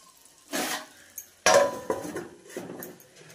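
A cooking pot gets its lid, giving a few close metallic clatters and clanks of lid against pot amid quiet kitchen handling, with no speech.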